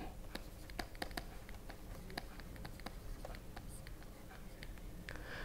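Pen scratching on paper as a physics lecturer writes out a particle-in-a-box wave function, a steady run of quiet strokes and small ticks close by, with no talk.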